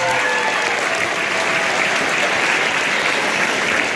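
Steady, dense applause from a crowd, continuous clapping at even loudness throughout with a faint murmur of voices underneath.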